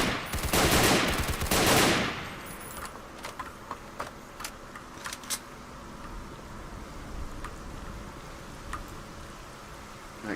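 Automatic gunfire in the video game STALKER Call of the Zone, a loud close burst in the first two seconds, then scattered faint shots and clicks.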